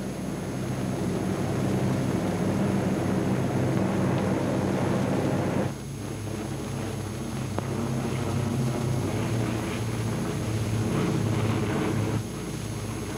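WW2 bomber aircraft fly on with a steady, loud, continuous engine drone, a smooth roar that dips slightly twice but never stops.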